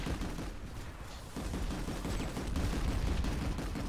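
Rapid machine gun fire from a Basilisk in Planetside 2 rattles continuously and fairly quietly amid a busy battle soundscape, with no clear breaks between bursts.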